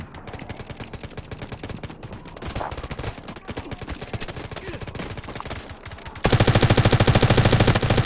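Rapid automatic gunfire from the Delta Force Mobile video game rattles in dense bursts, then swells into a louder, sustained stream of shots near the end.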